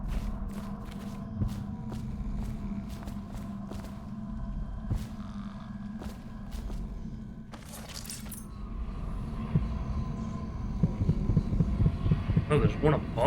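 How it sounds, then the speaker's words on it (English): A steady, throbbing heartbeat cue from the video game Dishonored pulses through the clip with a low hum, with brief clicks and footsteps over it and a sudden rustling burst near the middle. "I'm hearing the heartbeat"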